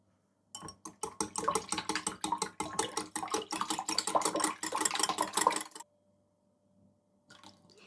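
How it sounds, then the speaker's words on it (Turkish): Oil and milk being stirred into a pastry batter in a bowl, a close, brisk rhythmic clatter and slosh of a utensil lasting several seconds, then a pause and a faint resumption. "1 çay bardağı sıvı yağ, 1 çay bardağı süt ekleyelim ve karıştıralım."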